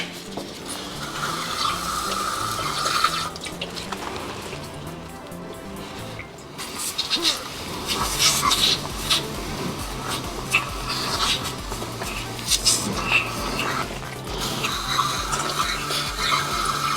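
Water splashes and rinses continuously while Haldex pump parts are cleaned in a workshop, with intermittent running flow and clatter of parts, close and moderately loud, no talking.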